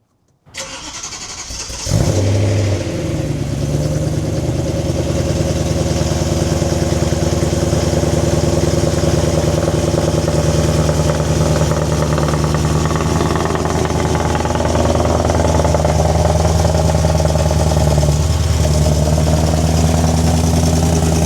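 A BMW E90 M3 V8 cold-starts with a sharp crank and catch, then settles into a loud, steady high idle with a deep, even drone that holds unchanged for the rest of the run.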